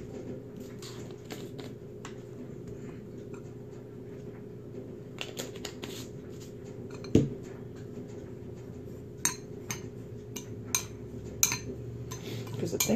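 Seasoned salt being stirred and mixed with added paprika, a steady soft scraping and rustling of granules with a few sharper clicks of a utensil against the container, close and moderately quiet with no talking.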